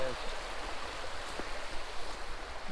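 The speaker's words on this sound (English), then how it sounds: "Well, no, it's just just a river." River in the Black Forest rushing steadily, a broad continuous hiss of flowing water heard close, with faint voices briefly in the background.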